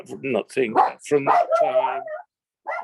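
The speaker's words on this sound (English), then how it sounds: "sorry, that's our dog" Dog barking and yipping near a speaking man, loud and close, with its calls mixed into and overlapping his speech before a short pause and one more bark.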